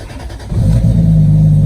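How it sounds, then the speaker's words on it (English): A 1994 Toyota Supra engine starting by remote, a quiet click and hum giving way to a loud, close low rumble that settles into a steady idle. "if you press this twice, it remote starts the car"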